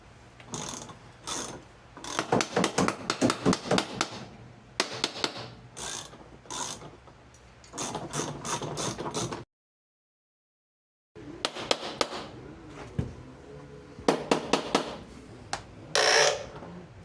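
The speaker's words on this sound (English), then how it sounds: "I use a little hammer or wrench or whatever. Just do around, tap that, even on the far side." A small hammer taps around the housing of a Pentair pool cartridge filter, giving repeated quick clusters of sharp metallic knocks with a pause midway, close and fairly loud.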